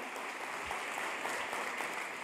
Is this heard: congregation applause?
yes